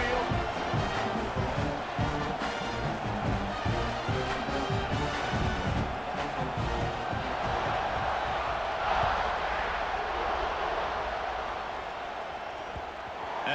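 A large stadium crowd roars and cheers continuously at a college football game in EA Sports College Football 26, a dense, loud wash of voices that holds steady throughout and eases slightly near the end.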